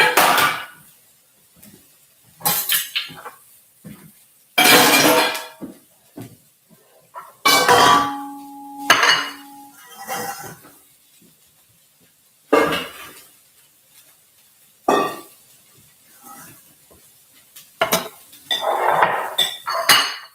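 Kitchen cleanup while making a chicken and veggie quesadilla brings close, loud clatters of dishes, pans and cutlery. The bursts come in irregular clusters separated by quiet gaps, and one passage has a ringing glass or metal tone.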